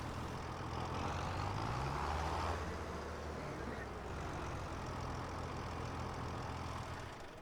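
Tractor engine in Farming Simulator 25 rumbling at a steady idle, a low continuous drone with a slight swell early on, moderately loud and alone.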